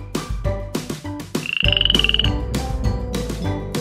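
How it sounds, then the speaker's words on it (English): Frog croaking close and loud, a series of sharp separate croaks around a longer rapid trilling call. "Frog."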